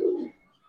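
A big male Giribaz pigeon makes a single short low coo close by, fading out after a fraction of a second, with no voices.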